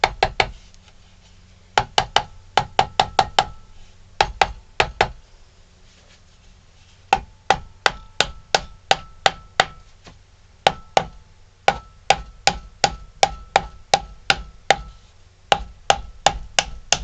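Glued wooden parts of a handmade ventriloquist dummy are tapped with sharp, close wooden knocks in quick bursts and steady runs, separated by short pauses, with no voices.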